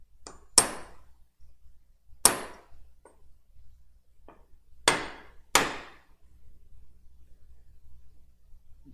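Sharp metallic hammer strikes on a stuck part, about five spaced whacks at irregular intervals, close and alone in an otherwise quiet space.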